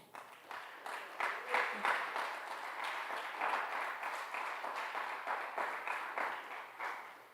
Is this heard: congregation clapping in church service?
yes